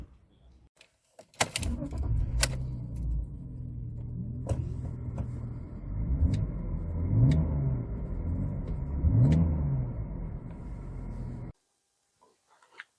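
A 2002 BMW 525i SE automatic (E39) engine hums steadily from inside the cabin, rising and falling as it accelerates, with a few clicks at the start and a sudden cut to quiet.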